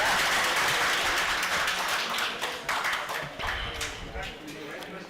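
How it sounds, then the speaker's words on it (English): An audience at an agricultural technologists' seminar gives a round of applause for a woman being honored, with dense clapping that gradually thins out. "Let us give her a big round of applause."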